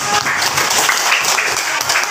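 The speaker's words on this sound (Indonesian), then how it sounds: "Tepuk tangan dong." Students in a classroom clap together during a lesson, a brief burst of dense applause with some voices mixed in.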